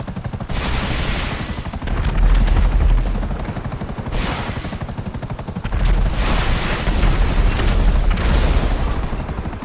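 Helicopter in GTA 5 Online, such as a Savage or Annihilator, roars with loud, close rotor thumping and engine noise that swells and fades in waves, with no voices.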